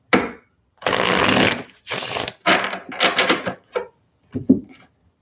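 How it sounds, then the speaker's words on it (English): An oracle card deck is shuffled by hand in a quiet room, giving several close, crisp riffling bursts separated by short pauses, the last few quicker and softer. "Let's do one more shuffle"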